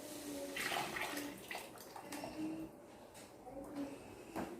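Tamarind water mixed with masala is poured into a cooking pot for a home-cooked fish curry, making a steady, splashing stream of liquid that runs continuously at moderate closeness and low volume.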